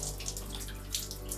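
A faucet fitted with a homemade water-saving device made from a recycled bottle, in a bathroom, runs in a steady, close hiss of flowing water with no voices.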